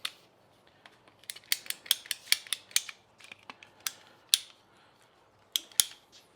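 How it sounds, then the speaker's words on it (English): Ratcheting PVC cutters click and snap in a quick, uneven series of sharp, close ratchet strokes while biting through PVC pipe, with no talking. "if you get yourself a set of these ratcheting PVC cutters, life is grand"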